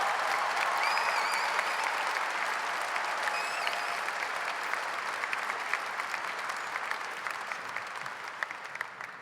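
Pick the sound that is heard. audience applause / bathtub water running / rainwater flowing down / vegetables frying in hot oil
audience applause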